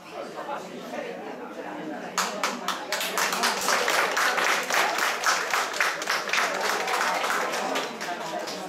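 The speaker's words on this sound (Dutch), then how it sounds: "doe nog maar eens een goed applaus" An audience at a 2014 bridal show applauds a bride and groom: dense, sustained clapping from a crowd that starts abruptly and carries on steadily, with a voice talking faintly under it.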